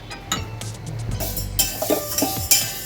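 Dry moong dal poured into a pot and stirred for roasting, giving sharp clinks and scraping taps of a utensil against the pot in quick, uneven bursts, close up with no talking.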